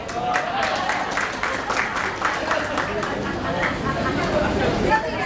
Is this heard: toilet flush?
no